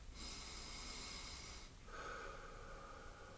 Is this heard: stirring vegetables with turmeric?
no